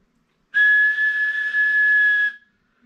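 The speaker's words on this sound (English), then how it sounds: "Wagon Master, change the whistle" A steady electronic whistle tone from a CB radio holds for nearly two seconds, loud and clean, starting abruptly and cutting off, with no talking.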